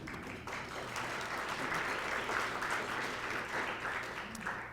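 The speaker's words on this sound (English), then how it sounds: "round of applause, please." Applause from the audience at a talk event on militarism, a steady wash of clapping that holds evenly for about five seconds at moderate loudness.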